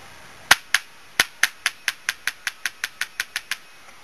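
A Tippmann X7 paintball marker fires on semi-auto, a string of about fifteen sharp, close pops that start spaced and then settle into a quick, even rhythm before stopping, with no voices.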